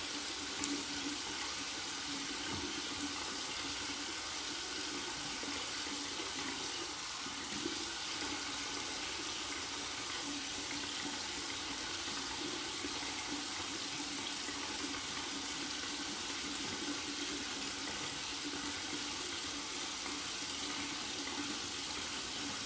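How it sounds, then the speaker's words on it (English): Cold water runs from a bathroom tap in a steady, close, continuous hiss and splash for over twenty seconds, with nothing else heard. "Just run under cold water"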